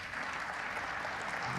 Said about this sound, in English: Getting some applause, but he certainly went for the pot.